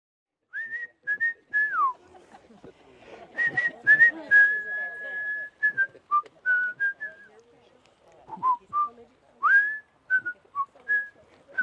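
A person whistles a tune in clear, bright phrases with short pauses between, one long held note partway through, close and clean against near silence, with faint speech-like sounds mixed in.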